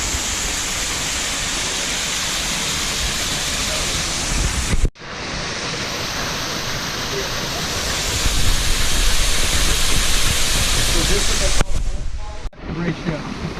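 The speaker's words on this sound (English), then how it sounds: "The water's just pouring out of there" Water pours out of rocks at South Cita Waterfalls on a Texas hike, making a steady, loud broadband rushing roar that runs almost the whole time, broken by two brief dropouts.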